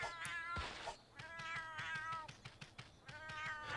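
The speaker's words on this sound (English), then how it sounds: "they were just meowing a bunch" Cats meow repeatedly in a video game village, several overlapping high, drawn-out cries following each other closely and loudly with no talking.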